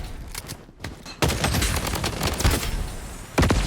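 Assault rifle fire in the shooter game Blood Strike, rapid bursts of automatic gunshots close and loud, with a short pause before a longer sustained burst and a final volley.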